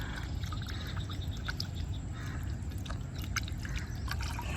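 Half a kilo of chicken washed in river water outdoors, with steady splashing, trickling and dripping close by over a low rushing background, with faint bird calls.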